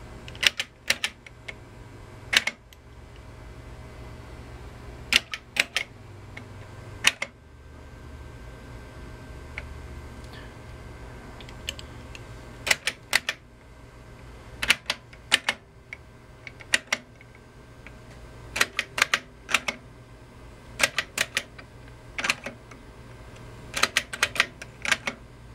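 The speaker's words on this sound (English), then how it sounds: "And the keyboard is a kind of a mechanical electrical hybrid." Mechanical-electrical hybrid keyboard of a vintage Friden EC-132 electronic calculator being pressed, sharp clacking key strikes in irregular bursts and pairs over a low steady hum, close and crisp with no speech.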